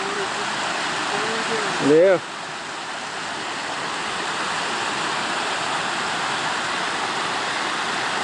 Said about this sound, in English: Check out the creek.